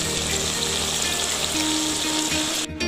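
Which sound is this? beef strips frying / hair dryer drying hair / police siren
beef strips frying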